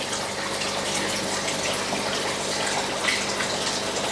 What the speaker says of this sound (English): So I put the filters back in and we're refilling the tank.